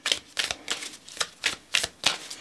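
Tarot cards being shuffled by hand, a run of seven crisp riffling bursts in a steady rhythm, close and fairly quiet with no talk.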